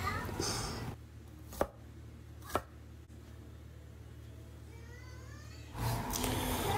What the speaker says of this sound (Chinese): 接下来把苦瓜切成大概一厘米厚